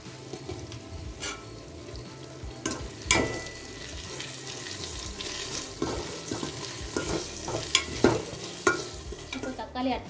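A spoon stirs biryani masala through mutton biryani in a pan, with repeated scraping strokes over a soft frying sizzle and several sharper clacks against the pan, up close and with no voices.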